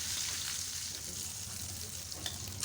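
Chicken potato cutlets deep frying in hot oil give a dense, steady sizzle with bubbling crackle, close and continuous, with no voices.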